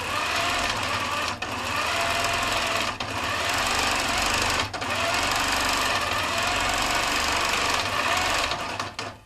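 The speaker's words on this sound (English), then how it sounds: "When I start moving the machine again, it will start stitching again" An I/S Turbo quilting machine stitches in a loud, steady mechanical whir, with brief dips roughly every one and a half seconds as the motion pauses, then resumes.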